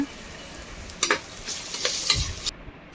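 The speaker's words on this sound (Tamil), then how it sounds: "இஞ்சி பூண்டு பேஸ்ட் எல்லாம் வதக்கிட்டு மிளகு கொஞ்சம் போட்டுக்கோங்க" Onion sautéing with ginger garlic paste and pepper in a pan, a continuous sizzle with a cluster of stirring scrapes in the middle before the sound cuts off abruptly.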